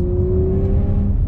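An Audi RS4 engine pulls hard on a race track, a steady loud drone with a slowly rising tone running throughout, close and continuous with no talking.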